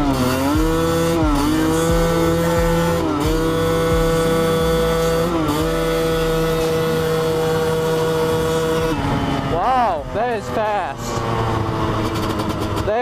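A Honda CR250 two-stroke dirt bike engine screams loudly while being ridden, its pitch climbing and dropping through repeated gear shifts, with sharp revving swoops near the end.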